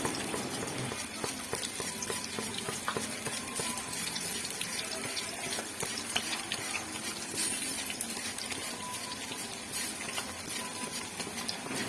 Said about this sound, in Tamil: இப்போ உருளைக்கிழங்கு எண்ணெயில் நல்லா சீவி போட்டுருங்க